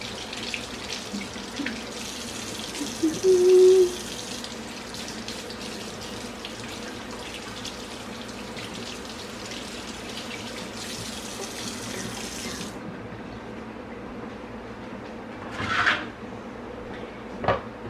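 A kitchen tap running water over cabbage and leeks to rinse off dirt, a steady close stream that cuts off partway, followed by a brief splash and a soft knock, with no voices.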